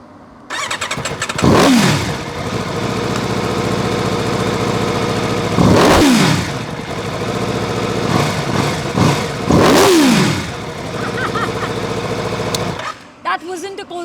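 An Aprilia RSV4 1100 Factory superbike engine fires up and idles loudly close by, with three sharp throttle blips rising and falling before it cuts off.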